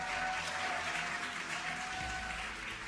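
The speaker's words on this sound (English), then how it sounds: "You can hear the crowd here." A dense wash of crowd applause and cheering rolls on without pause at a rocket drogue deployment and descent, loud and continuous, with a faint tone running beneath.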